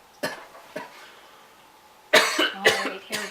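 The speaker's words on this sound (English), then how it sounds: "It's quite a nasty cough you have there." Harsh, nasty coughing in a close, quiet room, first two separate coughs, then after a pause a louder cluster of three wet, raspy hacks.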